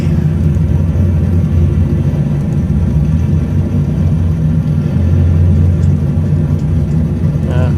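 A video game car engine gives a steady, loud drone with a low rumbling hum throughout, holding fairly constant rather than sharply revving, with faint voices mixed in.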